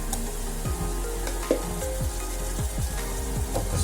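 Ginger garlic paste fries with mutton in a pan, giving a steady close sizzle broken by soft scraping stirs every half second or so. No one talks.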